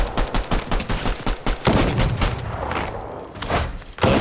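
Rapid bursts of gunfire in a Fortnite Season 5 match, with a string of sharp shots followed by heavier continuous firing, loud and close throughout.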